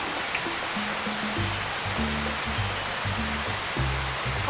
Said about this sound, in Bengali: অঝরে ঝরছে বৃষ্টি সারা দিন